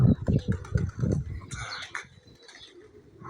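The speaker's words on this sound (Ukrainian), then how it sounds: "Оце птичка у нас літає." A dove or pigeon coos several times in low, rhythmic notes close by at a rural spot, followed by faint chirps and light rustling.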